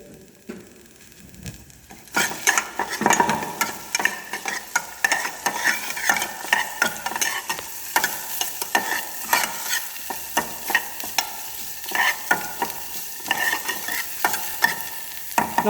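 Vegetables for pesto minestrone soup sautéing in a pan: a sizzle and rapid stirring clatter start after a quiet two seconds and then continue steadily and close, with no talk.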